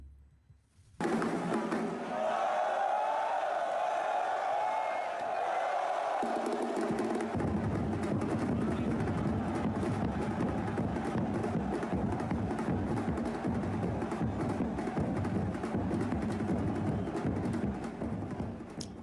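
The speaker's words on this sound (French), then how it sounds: "les supporters du Paris Saint-Germain étaient plus forts à l'applaudimètre. C'est eux qui ont donné de la voix" Paris Saint-Germain supporters cheer in the packed Houphouët-Boigny stadium at a women's football match, a loud, sustained roar of voices that swells after a moment and carries on steadily, with no talk over it.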